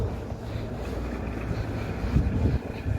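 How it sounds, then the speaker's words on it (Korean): Strong outdoor wind buffeting the microphone, a steady, close, low rumbling roar with gusty bumps throughout. "바람이 너무 많이 불어요."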